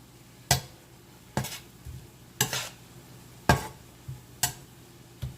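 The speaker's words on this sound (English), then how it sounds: "Stir fry. Get it going." Thai vegetables being stir-fried in a pan: about five sharp spatula scrapes and tosses come at a steady pace over a low, continuous sizzle, loud and close.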